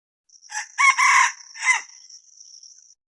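A single rooster crows once, clear and fairly close, the call broken into a few strong bursts that trail off, against a silent background.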